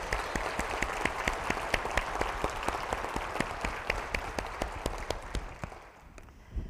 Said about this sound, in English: would everyone please give him a round of applause?